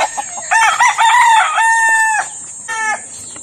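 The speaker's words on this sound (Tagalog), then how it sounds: "Napakagandang manok." A handsome Kelso cross gamecock crows loud and close, several drawn-out harmonic calls with brief breaks, standing alone with no talk over it.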